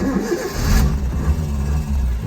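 A 1984 Ford Fiesta Mk2 1.1 Ghia engine turns over and catches, settling into a loud, rumbling idle close by.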